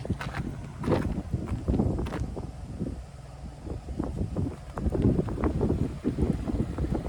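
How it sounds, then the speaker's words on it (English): Strong wind gusts buffet the microphone in rough, surging bursts, with a low rumbling roar that rises and falls throughout. "these gusts have been crazy today"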